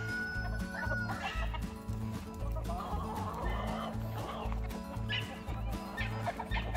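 Chickens, including Shamo and Ameraucana, cluck steadily and overlapping over a constant low mechanical hum, the birds close by and busy throughout.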